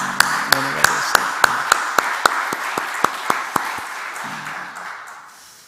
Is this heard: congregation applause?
yes